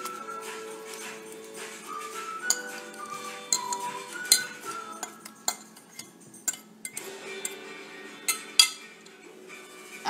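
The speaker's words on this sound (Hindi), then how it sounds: "अब बनाना डाल के मिक्स करना है" Bananas are mixed into banana bread batter in a bowl, a spoon or whisk clinking and scraping against the bowl in irregular strokes, with a few sharper knocks and soft squelching between them.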